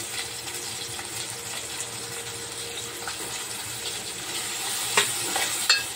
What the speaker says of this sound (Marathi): थोडंसं यात आपण टोमॅटो टाकून भाजू देऊया